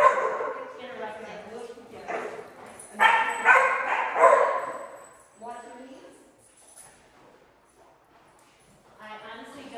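Three dogs at play, yipping and barking in quick bursts with some whimpering, moderately close, mixed in with people talking over them.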